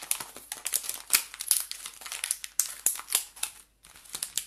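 Paper crumpled by hand, crackling in quick, irregular bursts, close and fairly loud, with a short pause near the end.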